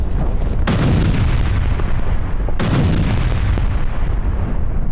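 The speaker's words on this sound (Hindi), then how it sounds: "डोनेट्स्क में रूस की भीषण बमबारी देखिए जरा।" Russian artillery bombardment in Donetsk: two heavy booming blasts land a couple of seconds apart, each followed by a long rumbling roll that lingers over a constant loud background.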